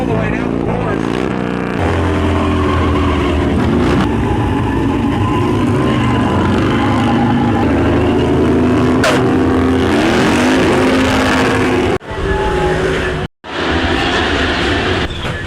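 Racing bagger motorcycle engines warm up at a championship race, their loud, droning exhaust notes rising and falling in pitch. They hold steady for most of the time before cutting out abruptly near the end, with a voice heard over them at times.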